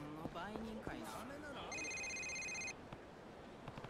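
Phone ringing in a video game, a steady electronic ringtone lasting about a second amid game dialogue and ambient sound, with voices speaking before and after.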